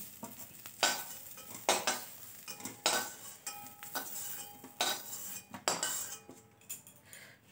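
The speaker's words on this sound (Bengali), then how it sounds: "সয়াবিনগুলো ভাজা হয়ে গেছে, তাই সয়াবিনগুলোকে আমি তুলে নিলাম।" Fried soybean chunks lifted out of a wok with a spatula: repeated sharp metal scrapes and clinks against the pan in an irregular rhythm, with a faint sizzle between strokes, close and clear with no talking.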